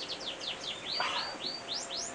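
Canaries chirp in a breeding birdroom, a steady run of quick rising and falling tweets over soft background hum, moderately near.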